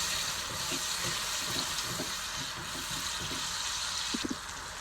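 Masala and tomatoes, loosened with a few spoonfuls of water, fry and sizzle in a pan for chana dal, a steady close hiss broken by soft stirring scrapes and a couple of brief clinks near the end.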